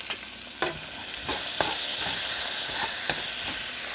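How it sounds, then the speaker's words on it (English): Onions with seasoning sauté in a pan, a continuous sizzle broken by several scraping stirs of a utensil at irregular intervals. "Beautiful onions, I add a little bit of seasoning. Give that a good stir."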